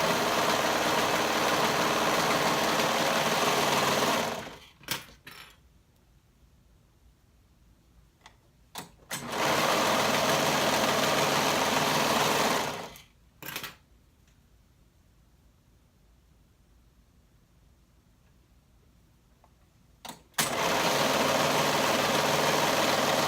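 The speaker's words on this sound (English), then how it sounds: "we're going to sew up the center seams and the shoulder seams again using a 1/2 inch seam allowance" A sewing machine stitches the center and shoulder seams of a bodice in three loud, steady whirring runs separated by quiet pauses with small clicks, the motor running close and alone.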